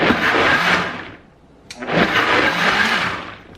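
Blender pulsing oysters in a kitchen, two loud whirring bursts separated by a short pause, close and alone.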